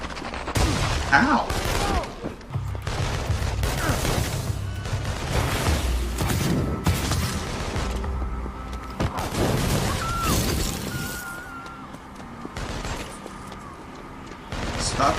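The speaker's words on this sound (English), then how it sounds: "Stop shooting around civilians." Rapid gunfire and glass shattering in the inFamous Second Son video game, with repeated bursts and crashes across the scene; voices speak over the chaos, with a pained shout.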